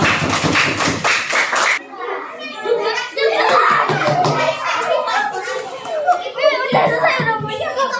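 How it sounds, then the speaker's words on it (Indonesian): A group of children at a Qur'anic letter lesson clap their hands together in a short burst, followed by lively children's chatter and voices filling the room. "tepuk tangan untuk anak-anak semua"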